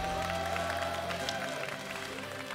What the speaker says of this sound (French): Un maximum d'applaudissements pour John.